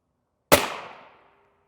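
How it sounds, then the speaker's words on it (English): A single sharp gunshot strikes a ShotStop Duritium PA Level III+ body armor plate backed by clay at a shooting range. One loud close report decays quickly, leaving a brief ringing tail and no talk. "Last shot."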